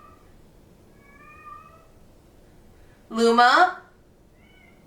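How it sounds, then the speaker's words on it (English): A pet cat cries for her owner with a loud, drawn-out meow close by, after a voice quietly calls her name over soft background hum. "Can you hear my cat crying?"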